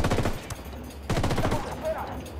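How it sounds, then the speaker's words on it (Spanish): Gunfire in Ghost Recon: rapid automatic bursts crackle in two close volleys, with a voice faintly audible underneath. "Vamos a abrir fuego."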